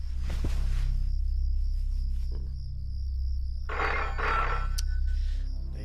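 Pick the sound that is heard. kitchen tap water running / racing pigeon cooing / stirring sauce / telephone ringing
telephone ringing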